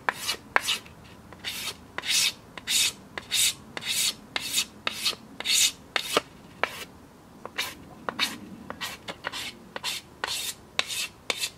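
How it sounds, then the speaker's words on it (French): A knife blade scrapes the bark from a length of bamboo in quick, repeated rasping strokes, about twenty close, dry scrapes in a rough rhythm with short pauses between. "sur une section, on la supprime, juste par friction avec la lame"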